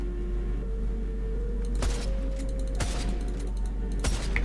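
Three sharp sniper rifle shots crack out in a Fortnite UEFN game, spaced about a second apart over a low steady hum of background game sound.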